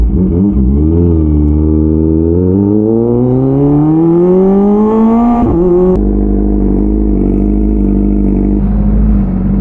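A Kawasaki ZX25R motorcycle engine, running after a cold start, climbs steadily in pitch as it revs, drops sharply, then settles into a loud, close, even idle with no talk over it.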